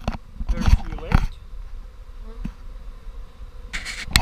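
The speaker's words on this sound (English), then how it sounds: "Very few bees left on here." Honey bees buzz close by at a bee barrel in short bursts, with louder swells at the start and end and a quieter hum in between.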